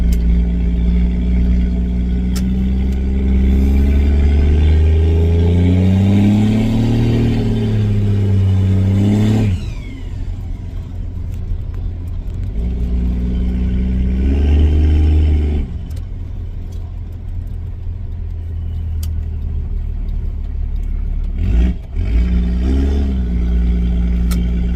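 Diesel truck revving through an exhaust stack, loud close engine that climbs in pitch over several seconds, drops off sharply, then rises again in shorter pulls with a deep idle rumble between them.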